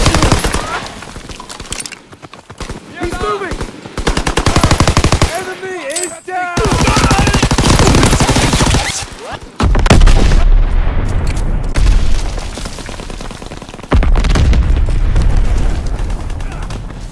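Dense World War II combat from Call of Duty: WWII, with rapid machine-gun bursts, single gunshots and heavy booming explosions layered throughout, loud and continuous, with voices shouting over the battle.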